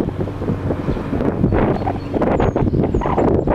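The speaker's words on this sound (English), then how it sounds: "here comes the wind" Strong outdoor wind buffeting the microphone with a steady low roar and gusting rumble, loud and continuous throughout, no talk.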